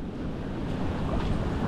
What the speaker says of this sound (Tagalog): So yung alon medyo malalaki na yan.